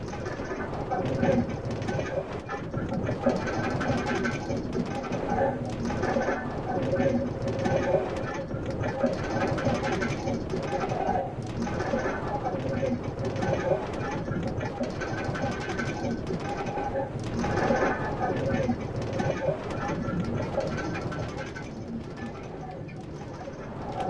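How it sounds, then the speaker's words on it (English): A passenger train runs on its rails toward the end of the line, giving a steady, continuous rumble with faint rhythmic clatter throughout; announcements and talk run over it. "This train is bound for Bio Station."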